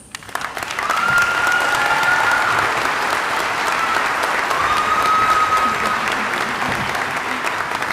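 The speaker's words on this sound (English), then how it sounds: "Give her another round of applause." A commencement crowd breaks into sustained applause, a thick, continuous roar of clapping that swells quickly and holds loud throughout, with a few faint voices mixed in.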